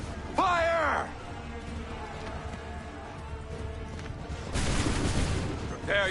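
A volley of musket fire from soldiers in Assassin's Creed 3 erupts as a dense burst of crackling shots about two-thirds of the way through, following a shrill harmonic cry and a steady rumble of battle noise.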